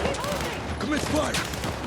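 Soldiers fire weapons in a dense battle in the Battlefield 6 campaign, a loud continuous barrage of gunfire with voices shouting in the mix.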